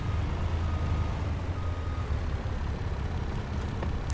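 A truck in Farming Simulator 22, hooking up to a trailer, with a steady low engine drone and faint reversing beeps throughout, no talk.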